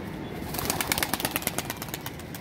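A newly released pigeon beats its wings in a quick burst of close flaps as it takes off, the fluttering peaking and then fading within a couple of seconds.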